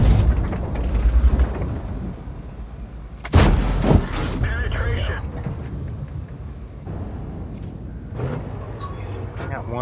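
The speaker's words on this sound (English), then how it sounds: "Something's shooting at me" Enemy gunfire in a video game booms out in a heavy, loud burst partway through, followed by scattered shots over steady background rumble, with a person talking over it.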